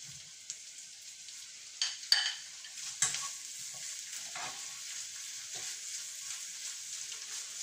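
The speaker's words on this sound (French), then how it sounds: "quand il commence à être translucide, là, on peut envoyer la viande" Meat hitting a pan of translucent onions, a steady hissing sizzle with a few sharp stirring scrapes and clinks early on, no talking.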